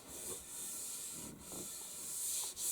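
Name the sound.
hand rubbing an axe handle smooth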